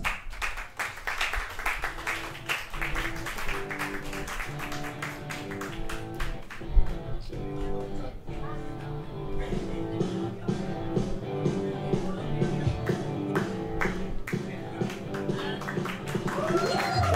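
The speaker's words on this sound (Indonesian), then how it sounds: "Beri tepuk tangan yang paling meriah untuk Dolos" Audience clapping greets a comedian stepping onstage at an Indonesian stand-up comedy show, a steady patter of hands running throughout beneath loud, rhythmic band music.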